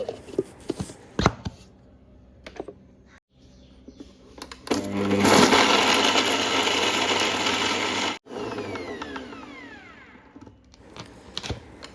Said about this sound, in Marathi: फक्त मिक्सरला लावली की चटणी रेडी